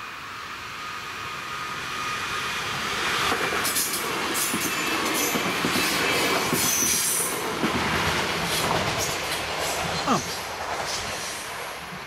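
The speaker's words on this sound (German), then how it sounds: "Da kommt Zug." Train passing a railway level crossing at Kirchstraße in Biblis, a loud, steady rolling roar with wheel squeal and rail clatter building and holding across the pass, with a voice speaking briefly over it.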